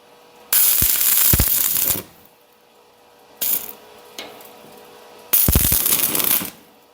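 Tack welds are struck on steel angle while building an apartment door: three separate bursts of harsh crackling buzz, each a second or so long, separated by quiet gaps with faint clanks, close to the mic.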